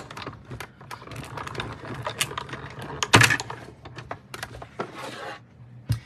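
A hand-cranked embossing machine pulls a paper card through an embossing folder between plates 1 and 4, giving a run of quick clicks and ratcheting rattles. A sharper clunk comes near the middle, all up close on a tabletop.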